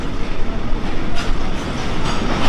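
Trains standing on both sides at Kamakhya railway station in Assam, a steady broadband rumble of rail and platform noise filling the whole span with no clear breaks.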